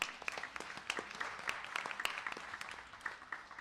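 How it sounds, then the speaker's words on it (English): Audience applause welcoming first-time attendees at a Bhagwat Katha gathering, a steady wash of many hands clapping with scattered sharper claps, moderately loud and continuous throughout. "Give them a big hand"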